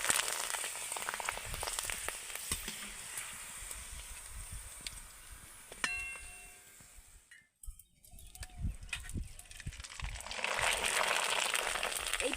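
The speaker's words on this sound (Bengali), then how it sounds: "পাপড়গুলো তো কয়েক সেকেন্ডের মধ্যে ভাজা হয়ে যাচ্ছে" Rice papads shaped like jackfruit leaves frying in hot oil, a steady broadband sizzling hiss that swells and fades across the pan with brief crackles and a short quiet gap midway.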